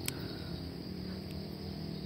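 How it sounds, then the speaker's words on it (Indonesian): Crickets chirp in a corn field, a steady, continuous high trill that holds throughout with a faint low background hum and no talk. "Ini ada, oh ini jangkrik ini."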